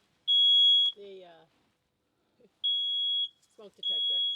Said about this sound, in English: Oh, the smoke detector in the van.